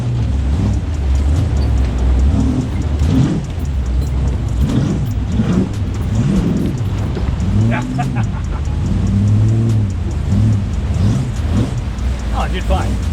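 Squarebody pickup truck, two-wheel drive, revving its engine as it pushes through a deep river water crossing; a steady loud engine drone with shifting pitch runs the whole time, with voices talking over it.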